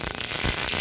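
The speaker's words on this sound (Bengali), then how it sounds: "সর্ষের তেলে রান্না করব। তুমি দিয়ে দিব শুকনো লঙ্কা, পাঁচফোড়ন, কালো সর্ষে," Dried chillies, panch phoron and black mustard seeds crackling in hot mustard oil, a burst of sharp close pops and spits over a loud frying hiss.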